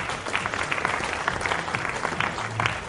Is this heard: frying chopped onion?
no